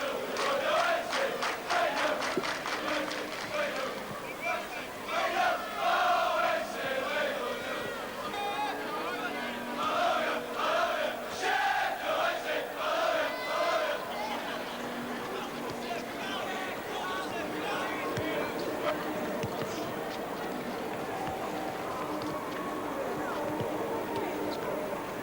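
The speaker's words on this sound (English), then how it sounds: "accompanied by noisy support from a large following of fans" A large following of football fans cheering and chanting at QPR's ground with its artificial pitch before a 1986/87 match, a loud, continuous roar of massed voices with rising chants throughout, while a commentator's voice talks over it.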